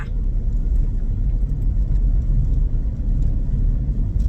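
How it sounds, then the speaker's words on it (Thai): A car drives along a road through the forest, giving a steady loud low rumble of engine and tire noise from inside the vehicle, with no clear voices. "ขับรถไปตามป่า"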